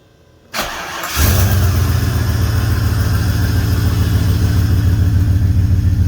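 A car engine cranks briefly and catches after an oil change, then settles into a loud, steady, rumbling idle heard up close with no talk.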